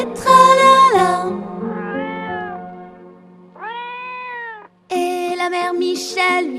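A cat meows several times in a French children's song about a lost cat, loud, close, drawn-out cries, with musical tones between them.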